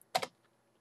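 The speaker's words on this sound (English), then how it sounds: "I'm just typing into the cells and hitting return when I finish the typing." A computer keyboard gives off a quick, close double clack of keys, like a short burst of typing or a press of the return key, then goes quiet.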